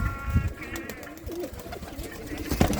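Pigeons coo in low, soft murmurs at a rooftop loft, the calls repeating irregularly against steady background noise with a few brief louder knocks and rustles.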